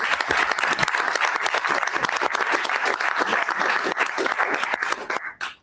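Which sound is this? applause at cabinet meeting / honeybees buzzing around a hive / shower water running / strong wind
applause at cabinet meeting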